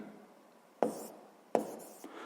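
Writing out a physics calculation for a seventh-grade measuring-cylinder problem: a few quick, close scratches of pen or chalk, two distinct strokes followed by a fainter one, with no talking.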